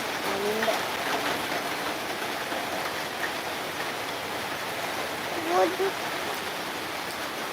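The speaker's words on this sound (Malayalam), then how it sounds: "നല്ല മഴ നല്ല മഴ നല്ല മഴ" Steady rain hisses across the whole clip, with faint voices and a brief sharper sound partway through.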